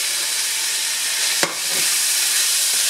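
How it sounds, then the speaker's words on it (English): Beef with mushroom sauce ingredients sautés in a pan for a lasagna, producing a strong, steady sizzle with one brief scrape of a utensil midway, heard up close without speech. "What I'm just going to do now is saute it with the ingredients"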